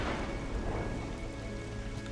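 Steady rainfall with low rumbling thunder in the Xenoblade Chronicles 3 game world, a dense continuous wash of raindrops that stays fairly loud and unbroken throughout.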